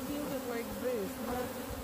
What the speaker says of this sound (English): So we're going to shake all the bees down.